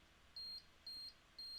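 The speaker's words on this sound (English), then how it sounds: "you can kind of hear the beeping that just went on, and you could see I get a door forced open alarm" Access control system sounding a door forced open alarm: three short, identical electronic beeps spaced evenly about half a second apart, clear over a quiet room background.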